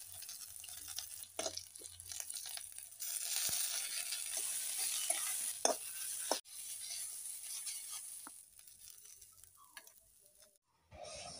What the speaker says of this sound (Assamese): কাটি লৈ এখন কেৰাহী পাতি তাতে মই সকলোখিনি ভাজি ল'ম